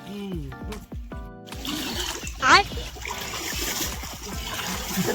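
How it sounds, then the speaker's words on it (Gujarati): A person jumping into a swimming pool makes a sharp splash partway through, followed by sloshing water, all under loud cheerful talking and shouting among friends. "દીપભાઈ કૂદે એટલે સ્વિમિંગ પુલમાં મોજા આવી જાય."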